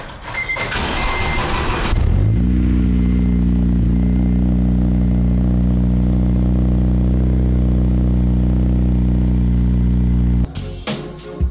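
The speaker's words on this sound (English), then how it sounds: "Cold start for you guys." A Honda Civic Si cold starts after a few seconds of rustling and clatter, the engine catching and settling into a loud, steady idle with a firm low rumble before the sound cuts off near the end.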